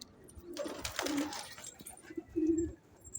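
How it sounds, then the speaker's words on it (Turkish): Pigeons in a loft coo softly in low, throaty phrases, two distinct coos with some rustling and faint background noise around them, fairly close and alone without talk. "Yani burada kuşları görüyor."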